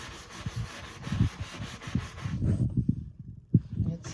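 A scrubber works baking soda into a stain with quiet irregular rubbing strokes, soft and close, in short bursts.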